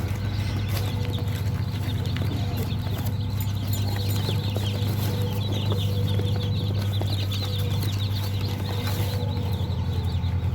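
Black Australorp chickens on a farm cluck and call in a dense, steady flock chorus over a constant low hum, with no talk.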